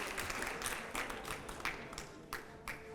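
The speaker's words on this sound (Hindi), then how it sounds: "जोरदार तालियां" Studio audience applauding at a political interview show, a steady, moderately distant wash of clapping with a few louder bursts, without voices.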